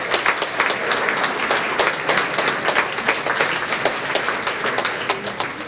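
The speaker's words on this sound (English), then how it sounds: "You ought to give yourselves a round of applause for that." A room full of people claps steadily, dense applause holding at an even level throughout without voices rising above it.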